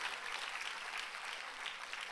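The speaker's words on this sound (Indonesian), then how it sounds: "Ya kalau mau tepuk tangannya jangan separuh-separuh." Congregation applauding during a church sermon, a steady wash of claps that stays moderately faint and even throughout with no clear voice on top.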